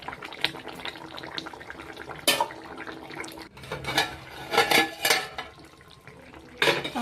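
Fish and vegetables cooking in a covered pot for a winter fish curry, with clattering lid and metal utensil knocks, scraping and bubbling in bursts over a low simmering hiss.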